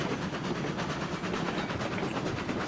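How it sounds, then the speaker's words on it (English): A steam locomotive in the RailRoads Online game, all-blue engine hauling oil barrels, runs with a steady rumbling roll and rhythmic clatter, loud and continuous with no talk. "Absolutely dig this train"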